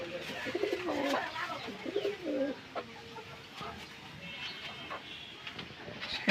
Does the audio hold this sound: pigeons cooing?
yes